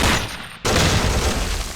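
Javelin missile blasts in the strategy game Close Combat Modern Tactics, striking a BMP2: a loud burst of explosive rumble and crackle that dips briefly, then slams back in and sustains dense and close.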